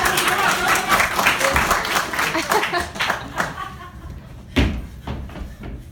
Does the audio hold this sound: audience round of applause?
yes